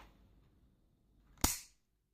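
A single sharp click from the double-action trigger pull of a Norinco N22 9mm pistol, close and crisp, standing alone after near silence.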